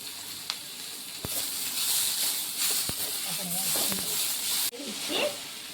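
Onions and spices for a Nagercoil-style coconut milk egg curry sauté in a pan with a steady close sizzle, punctuated by occasional stirring scrapes and a brief clatter.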